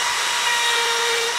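A router fitted with a spiral trim bit cutting along a wood edge, a loud, steady high-pitched whine and hiss held for the whole short burst with no pause.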